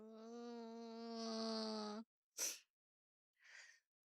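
A woman gives a long, voiced yawn lasting about two seconds, close and soft, followed by a sharp breathy exhale and a quieter sigh.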